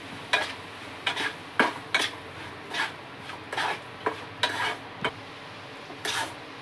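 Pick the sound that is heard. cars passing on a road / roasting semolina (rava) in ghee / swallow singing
roasting semolina (rava) in ghee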